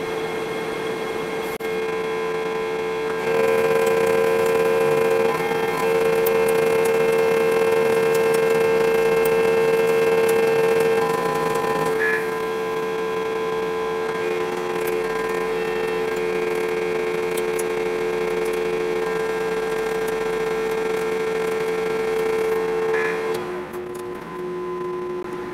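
A Lion lathe turning a solid 8-inch steel shaft, with steady motor drone and a sustained tonal whine from the cut running for about twenty seconds, fairly close, no talk.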